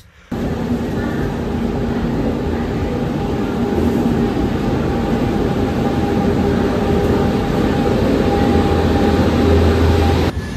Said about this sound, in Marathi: प्लॅटफॉर्म नंबर 18वर आंध्र प्रदेशवरून जस्ट आता आली आहे 12737 Kakinada port Delhi, Kakinada port Mumbai express